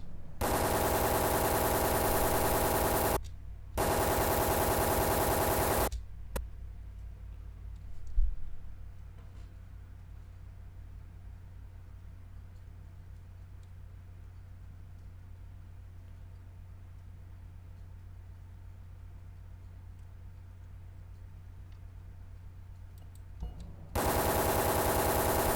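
Assault rifle fire in the video game Dead Aim: two loud bursts of rapid automatic shots open the clip, then a long stretch of low hum before another burst at the end.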